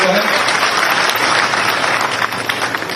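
An audience gives loud, sustained applause to welcome the chief minister at a floral tribute ceremony for the birth anniversary of Peshwa Bajirao I. The dense clapping runs throughout with voices mixed in.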